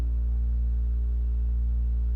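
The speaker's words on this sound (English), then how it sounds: "A simple bass pad from Retro Machines" A deep, steady synth bass pad from Native Instruments Retro Machines drones evenly throughout, low and full with a faint pulsing texture.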